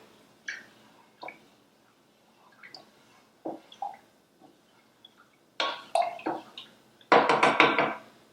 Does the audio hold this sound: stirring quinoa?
yes